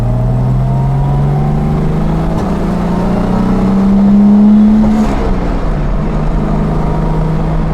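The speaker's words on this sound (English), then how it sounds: "It does rev like an early car." A 1964 Jaguar E-Type Series I coupe's 3.8-litre triple-carburettor engine idling, then revving up and settling back down once, a smooth rising and falling drone close by.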